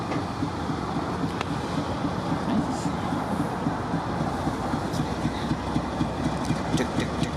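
A freight train with a mid-train DPU locomotive passes on a cold morning, giving a low, continuous rumble of engines and rolling wagons with faint rail clicks, heard from a moderate distance.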